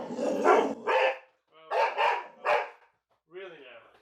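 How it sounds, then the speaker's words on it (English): An energetic puppy lets out a few quick, close barks in short bursts with brief pauses, fairly quiet overall, during an outing on a golf and disc golf course. "Hold on, energetic puppy here."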